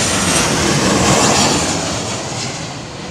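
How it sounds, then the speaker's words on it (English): Aircraft CFM jet engines roar loudly during an arrival at Heathrow in high wind, a dense, rushing broadband noise mixed with gusts that slowly fades over a few seconds, with no voices. "Sound a little bit noisy, these CFMs."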